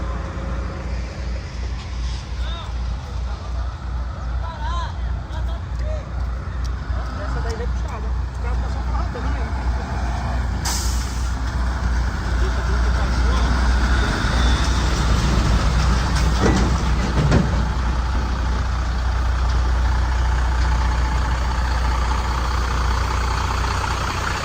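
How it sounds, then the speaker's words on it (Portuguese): Heavy engine rumbling steadily with a low drone and vehicle noise on the flooded BR-230 Transamazônica highway, where a tractor tows cars across the water; people talk faintly over the continuous engine sound. "Olha o trator aqui, esse daqui é que puxa a galera."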